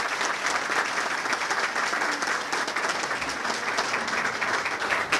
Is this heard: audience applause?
yes